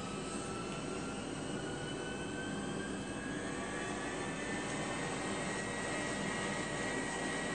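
A simulated airliner's engines spool up as thrust increases in a flight simulator game, a steady broadband roar with a slowly rising whine running continuously throughout.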